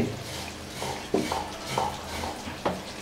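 A spoon clinks and scrapes against a pot while Bangladeshi chicken musallam simmers in oil. Several light metallic knocks come at an irregular rhythm over a faint sizzle, close by.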